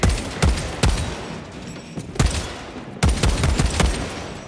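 Heavy gunfire from the video game Warhammer 40000: Space Marine 2 in underground tunnels, loud punchy shots firing in irregular bursts over a dense, rumbling combat backdrop, with no voices.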